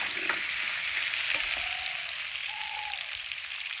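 Potatoes and onions fry together in a pan with a steady, close hiss of oil that holds evenly throughout, broken only by a few faint clicks, with no one talking.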